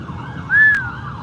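A fire truck siren at a car show, one short rising-and-falling wail that swells briefly and fades as the truck passes, over low traffic rumble, with no speech.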